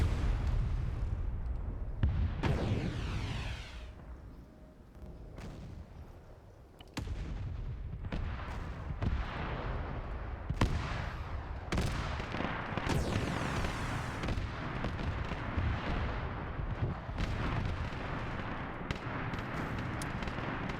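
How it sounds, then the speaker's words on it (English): Heavy weapons fire in the Warhammer 40K video game, repeated booming shots and blasts with crackling tails at irregular intervals over a constant low rumble, no speech. "they're shooting something heavy."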